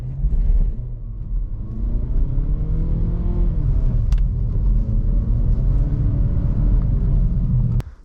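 A 2020 Mazda3 AWD at full throttle in deep snow: a loud, steady low engine roar rising slightly in pitch, then cutting off abruptly at the end.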